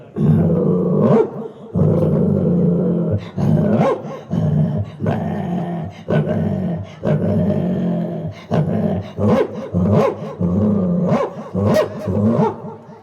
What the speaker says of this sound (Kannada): ನಾಯಿಗಳು ಜಗಳ ಆಡ್ತಾವ್ರಿ.